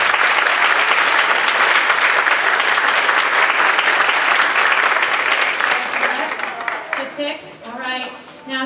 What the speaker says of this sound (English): Our drama teacher here, Mr. Stafford, give him a huge round of applause.